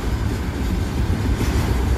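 A long freight train of extended flatcars, each carrying two sea containers, passes close by with a loud, steady rumble and rolling wheel noise.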